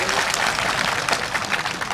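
An audience at a spiritual discourse gathering applauds, a dense, steady wash of many hands clapping at close to moderate distance that holds evenly through the whole short moment.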